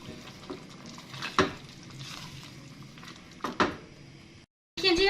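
A spoon scrapes and stirs spice masala of black pepper, garam masala and coriander powder as it roasts and sizzles in a kadai, with a few louder clinks against the pan at close range.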